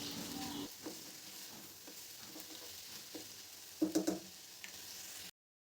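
Sliced cucumber frying in a pan for a spicy stir-fry, a quiet steady sizzle with a few light taps and a brief cluster of clinks near the end before it cuts off.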